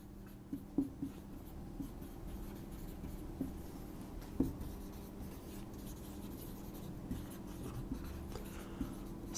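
Marker or chalk scratches across a board during a lecture on water purification, with faint strokes and a few sharper taps over a steady background hum.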